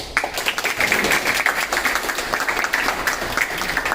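An audience at a women's empowerment event in India claps for the chief guest, a steady burst of many hands clapping together at moderate loudness with faint voices underneath.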